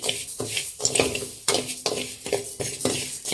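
Raw rice being dry-roasted in a pan, a spoon scraping and stirring it in quick repeated strokes with gritty rattling of grains against the metal, close and fairly loud with no talk.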